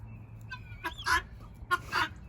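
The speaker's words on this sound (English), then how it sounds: "I think he's a Wyandotte rooster." A Wyandotte rooster gives a couple of short, squawky clucks close by, separated by a brief pause, over a low background hum.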